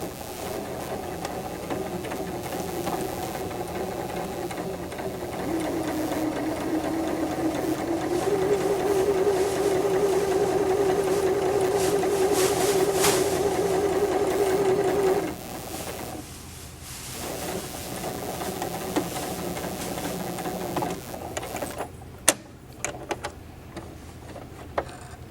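A sewing machine runs steadily while stitching a second row along a fabric seam, a continuous mechanical whir with a faint ticking pulse, before it stops and small handling clicks follow.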